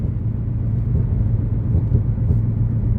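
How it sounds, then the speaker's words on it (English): An aging car's worn suspension gives a steady low rumble throughout, a continuous deep droning with no distinct knock from the bump. "it makes louder noise when you go over a bump."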